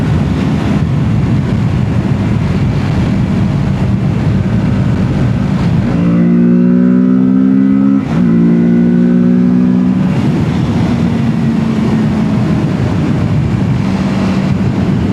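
A Kawasaki Z650 motorcycle engine is revved for a few seconds mid-clip, its note rising in a couple of quick pulls over a steady loud idle drone.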